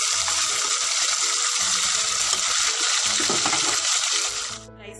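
Cooked rice stirred into a sizzling tempering in a pan while making katte pongali, a continuous loud frying hiss with scraping stir sounds, easing off at the very end.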